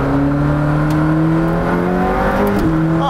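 A McLaren Senna GTR engine drones loud and close in a drive-through, its steady rising engine tones climbing as the track car pulls away in first gear, with a brief whir and clunk near the end and no talking.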